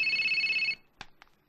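A telephone rings loudly and steadily for under a second, then cuts off, followed by a couple of brief faint clicks or knocks as the handset is picked up.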